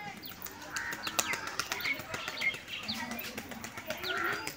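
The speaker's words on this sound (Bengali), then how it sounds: "পায়রা ভয়েতে উড়ে গিয়েছিল দেখো" Frightened home pigeons flap and take off after a cat climbs nearby, making repeated fluttering bursts of wings with faint chirps, heard moderately close against low background noise.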